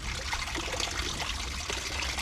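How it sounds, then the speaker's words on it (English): Hot soapy water pours steadily into a sink for washing dishes, a close, continuous splashing trickle with no talk. "We're gonna put this hot water in."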